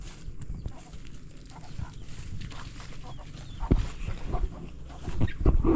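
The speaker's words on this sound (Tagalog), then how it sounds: "Manok ng kapitbahay." Neighbour's chickens and a rooster clucking and calling at a rural yard, scattered fowl sounds at moderate distance amid outdoor ambience and occasional thumps.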